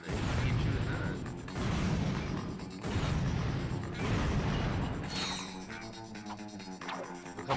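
Rockets blow up in Ratchet and Clank: Going Commando, a dense roar of heavy booming blasts and metallic crashes rolling over one another, loud and close, ending in a ringing, clanking tail.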